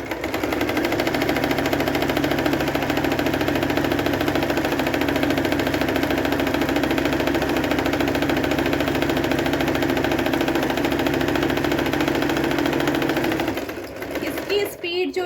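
Singer Promise 1409 domestic sewing machine running a zigzag stitch at steady speed, a continuous loud mechanical whirr with rapid rhythmic needle clatter that cuts out near the end; after four years of use it has become a little noisy.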